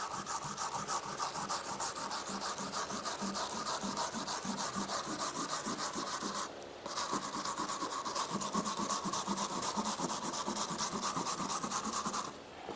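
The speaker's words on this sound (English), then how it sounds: "we're going to take this little brush and we're going to go around the edge of the patch" A small brush scrubs rapidly around the edge of a drywall wall patch to rough it up, a steady close scratchy rubbing that runs continuously with one brief pause midway.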